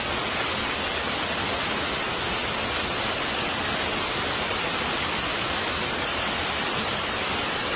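Curug waterfall pouring cold water, a dense, steady roar of rushing spray filling the whole clip with constant broadband hiss, close and loud with no pauses or voices.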